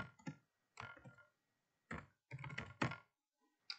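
Quick bursts of keystrokes on a computer keyboard entering a feature code, with short pauses between clusters of close, crisp clicks in a quiet room.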